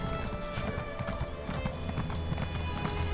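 A horse mount in Elder Scrolls Online trots with rapid, even clip-clop hoofbeats, loud and close over faint game ambience.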